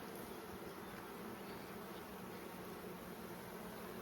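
A steady, dense buzz of many honey bees in an opened hive, continuous and close, filling the whole stretch without pause.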